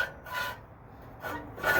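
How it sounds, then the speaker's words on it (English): A cleaned metal auger slides back into the auger tube of a Pit Boss 700FB pellet grill, giving a quiet scraping, rubbing rasp in a few short strokes close by with no talk. "Now that I have my auger all nicely cleaned up here, I'm just going to reinsert it."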